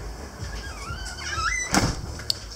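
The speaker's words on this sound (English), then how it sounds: "Let me just close the door." A door is being closed at home. There is a rolling slide with a squeal that rises and falls, then a firm knock as it shuts and a smaller tap just after, all near and moderately loud.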